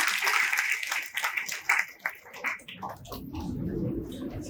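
Audience applause after an interview-style talk, a dense burst of clapping that fades after a couple of seconds into low, murmuring crowd noise.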